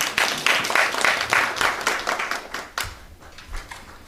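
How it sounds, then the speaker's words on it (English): Audience applause at a university workshop on generative AI in higher education, a dense burst of clapping that thins out into scattered claps toward the end. "another round of applause to Anya and Joel Vega"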